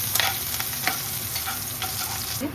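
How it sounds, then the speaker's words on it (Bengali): Chopped ginger and green chili fry in hot oil for chowmein, a loud, steady close sizzle with stirring scrapes throughout. "তেলটা গরম হয়ে গেছে, দিয়ে দিচ্ছি আদা কুচি, লঙ্কা কুচি। আদাটা লঙ্কাটা খুব সুন্দর করে ভেজে নিচ্ছি"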